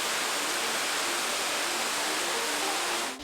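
Waterfall tumbling over rocks beneath a tree-lined top along the Panorama Route, heard as a steady, even rush of water that stays constant before cutting off at the end.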